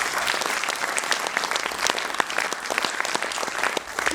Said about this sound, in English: Give them a round of applause for coming down.